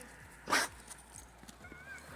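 A dog sneezes once, a short, sharp, breathy burst close by, on a quiet winter walk in Jūrmala, with faint outdoor background before and after.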